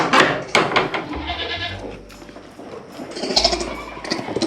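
A goat bleats several times in quick succession, loud and close, with lower grunting calls mixed in among rustling outdoors.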